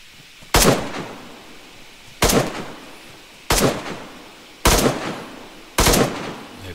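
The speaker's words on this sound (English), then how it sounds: "They're just shooting zombies." Gunfire from the video game DayZ as players shoot zombies: five loud, sharp shots spaced about a second apart, each with a short decaying tail, over a quiet background with no talking.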